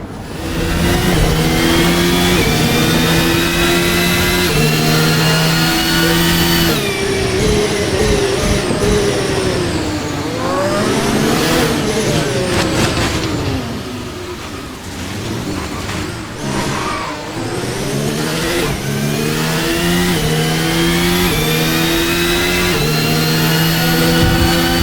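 Formula 1 race cars at the 2024 Bahrain Grand Prix, loud high-pitched engines revving and accelerating continuously, with gear-change pitch sweeps and several cars passing close together throughout.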